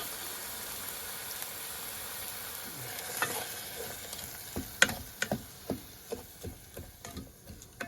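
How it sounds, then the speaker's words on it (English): Beans sautéing in a pan over a Trangia camp stove give a soft, steady sizzle. Quiet clicks and scrapes come at a fairly even pace toward the end, likely from stirring. "So we'll saute those up real nice."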